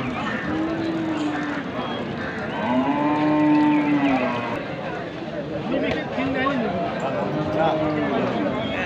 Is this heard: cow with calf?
yes